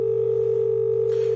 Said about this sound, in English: on my cell phone, I'm just dialing in to our company